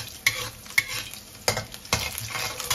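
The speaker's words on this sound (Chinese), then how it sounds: "先把这个腊肉给它炒一下，然后把这个葱跟姜给放进来" Cured pork with scallion and ginger stir-fried in a wok sizzles steadily, broken by four or five sharp spatula scrapes at uneven intervals, close and clear with no talking.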